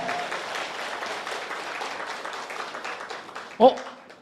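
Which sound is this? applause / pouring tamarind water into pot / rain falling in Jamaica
applause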